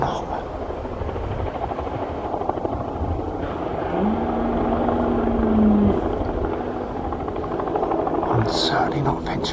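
A helicopter drones in the background over steady outdoor noise in Devon countryside during the red deer rut, with a brief tonal whine in the middle and faint voices near the end.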